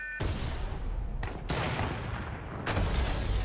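Bursts of Fortnite gunfire crackle in rapid fusillades, several dense volleys separated by brief breaks, loud and continuous with no talk.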